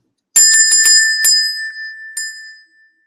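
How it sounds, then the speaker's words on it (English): A meditation bell is struck several times in quick succession, then once more after a pause, each clear metallic ring sustaining and slowly fading in a quiet room. "I'm gonna ring my bell for the first time"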